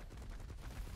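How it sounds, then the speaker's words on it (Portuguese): Gunfire in the PvP survival game ARK: Survival of the Fittest, a dull low-heavy shot with rumbling, noisy bursts across the short moment, fairly faint and with no talk over it. "deram um tiro aí."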